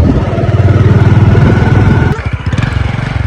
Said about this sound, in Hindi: हम सैर कर रहे हैं मोटरसाइकिल की, है ना?